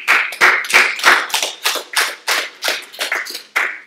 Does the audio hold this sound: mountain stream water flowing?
no